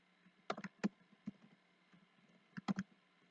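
Someone types a ping command on a computer keyboard while setting up a DNS client in Windows. A few separate key clicks arrive in two small clusters, close and crisp, with quiet gaps between them.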